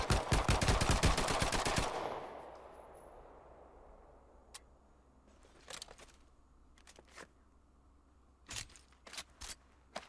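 Rapid automatic gunfire in the VR shooter Medal of Honor: Above and Beyond, a loud dense burst for about two seconds that tails off. Scattered single clanks and sharp mechanical reload clicks follow.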